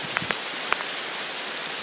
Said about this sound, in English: Being out in the rain when you haven't got to do nothing.